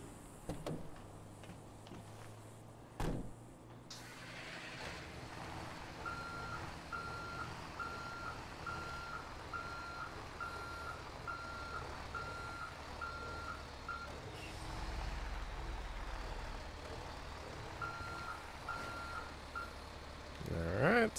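A Kenworth semi truck in GTA 5 gives off a steady low engine drone throughout, with a loud knock near the start and a series of evenly spaced reversing beeps in the middle.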